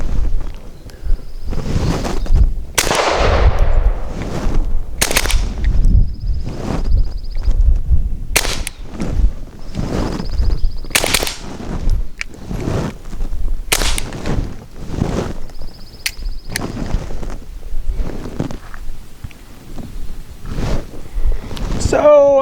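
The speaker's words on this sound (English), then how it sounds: "tell me that wasn't cool to hear the thump and then the brass on the ground" A suppressed Bersa Thunder 380 pistol firing subsonic ammunition, giving a long string of close, sharp thumping shots in singles and doubles, spent brass clinking down between them, with some wind noise over the microphone.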